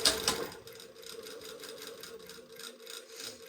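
Sewing machine stitching a 1/4-inch seam on a blouse sleeve at a 1.5 mm stitch length, a close, continuous fast whirring hum after a brief louder start, with no speech.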